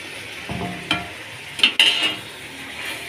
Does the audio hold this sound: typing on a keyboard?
no